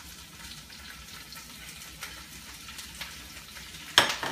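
Swiss chard ribbons sizzle in a frying pan with a steady broadband hiss and crackle. A sharper clatter comes near the end.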